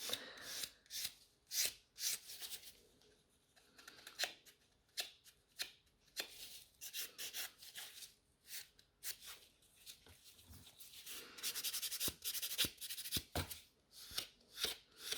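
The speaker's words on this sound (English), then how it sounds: "And just buff the entire nail." Natural fingernail being buffed with a nail buffer, a series of quick, close, soft scratchy rubbing strokes in uneven bursts.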